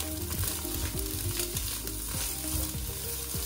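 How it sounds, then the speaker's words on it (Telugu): Chicken pieces and green chillies tossed and frying on high flame in a wok for street-style chicken noodles, a loud continuous sizzle with rhythmic metallic scraping and clanging of the spatula, close up. "తర్వాత గ్రీన్ చిల్లీస్ని అలాగే మనం ఫ్రై చేసుకున్న చికెన్ పీసెస్ని వేసి బాగా టాస్ చేయండి. హై ఫ్లేమ్లోనే ఉంచి ఫ్రై చేసుకోవాలండి."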